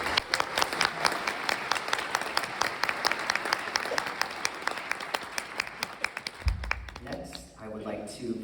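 Audience at a nursing school graduation ceremony applauds the event organizers: dense, sustained clapping from a large crowd that carries steadily for several seconds before thinning out near the end.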